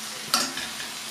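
Beef patties hit a hot pan with sauce, letting out a steady close sizzle and a short sharp hiss of frying, with faint scrapes of stirring.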